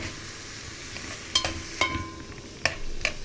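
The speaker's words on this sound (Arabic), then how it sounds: "ده احنا بنشوح البصل عشان تبقى طعمها حلو كده طعمه في الأكل" Onions sautéing in a pan as part of cooking stuffed pigeon, a quiet steady sizzle broken by a few sharp clinks and scrapes of stirring, close by with no speech.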